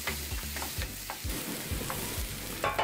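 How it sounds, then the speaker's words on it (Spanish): Onion caramelizes in a frying pan with garlic for a Dominican dish, giving a soft, steady sizzle broken by scraping stirs, close and quiet. "Dejamos caramelizar un poco la cebolla."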